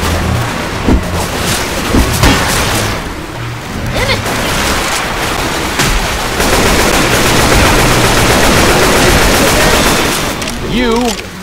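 Gunfire rattles through a rainy level of the Left 4 Dead 2 video game, loud rapid bursts and shots over steady rain noise and game effects, with players talking over the action.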